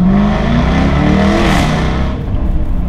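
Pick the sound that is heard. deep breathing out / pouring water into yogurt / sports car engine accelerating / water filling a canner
sports car engine accelerating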